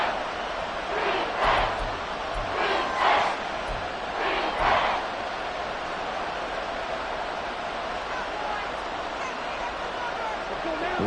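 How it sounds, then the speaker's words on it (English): A stadium crowd in a Madden NFL American football game roars in a continuous wash of cheering, swelling in a few rhythmic surges over the first five seconds before holding steady. "This crowd doing all they can."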